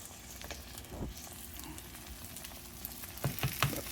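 Eggs frying in a pan for a scramble, a soft steady sizzle close by, broken by several sharp utensil scrapes and taps against the pan near the end.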